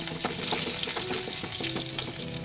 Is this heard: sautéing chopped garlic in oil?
yes